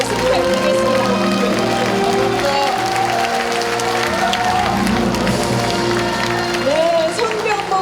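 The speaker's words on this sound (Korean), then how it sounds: "다시 한번 뜨거운 박수 부탁드리겠습니다" Applause from a large crowd at an outdoor talk concert honoring the county governor of Uljin, South Korea: sustained, loud clapping with crowd noise throughout and a voice speaking over it.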